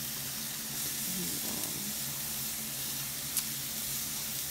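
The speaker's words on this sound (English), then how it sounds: "let those sweat down a bit before I add my meat to them" Chopped vegetables sweat in a hot pan for an omelet, giving a steady soft sizzle and hiss that runs through the whole stretch, with a brief word spoken once.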